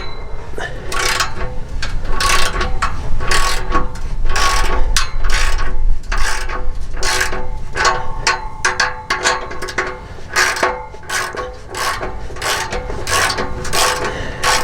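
Ratchet wrench with a 15mm socket working a muffler clamp on a Ram 1500 exhaust, rapid loud repeated clicking strokes in bursts, close up with no talking.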